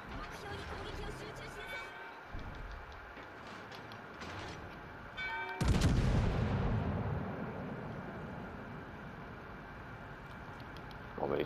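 Naval guns firing in World of Warships: Legends, a sudden loud boom with a long rumbling tail over steady game ambience, while players talk throughout.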